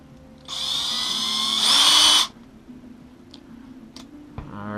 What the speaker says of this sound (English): I still use a smaller bit to start my pilot hole.